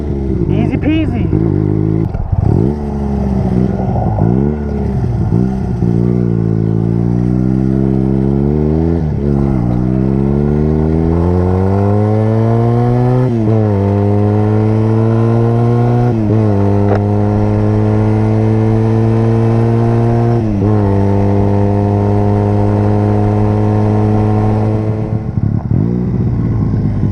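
A motorcycle engine runs after a bump start, rising and falling revs close by with a strong low throb and several throttle blips, with a voice talking over it.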